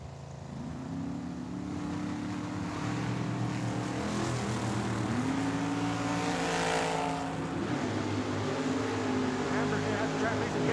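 A dragster and an 84 T-Bird racing down the strip at Tucson Dragway, a loud sustained engine roar with rising and shifting tones across the whole run while an announcer talks over it.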